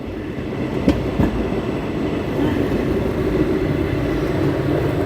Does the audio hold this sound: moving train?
yes